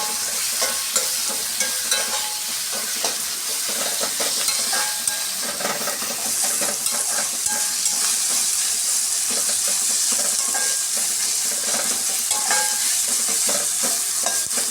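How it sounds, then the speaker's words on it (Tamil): Onions and tomatoes sauté with a pinch of salt in a hot pan for a kovakkai fry, giving a steady close sizzle and hiss with frequent stirring scrapes throughout, no voices. "இப்போ இந்த வெங்காயம் தக்காளி வதங்கிறதுக்காக ஒரு 2 பிஞ்ச் உப்பு போட்டுக்கலாம். சீக்கிரம் வதங்கும்."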